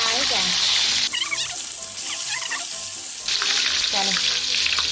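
Chicken pieces deep frying in hot oil, with a steady broadband sizzle and crackle running throughout, loud and close, with bursts of speech-like voices over it.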